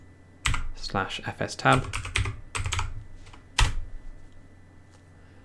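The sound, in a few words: typing a command on a computer keyboard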